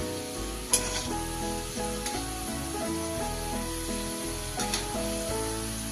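Sweet potato and moong dal pitha deep-frying in oil over medium heat: a constant bright sizzle and bubbling with occasional sharp spatters and stirring clinks, close and steady, with soft background music.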